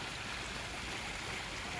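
Water from a garden pump hose sprays steadily during a pond water change, making a continuous soft hiss and splash that stays even throughout and carries no voices.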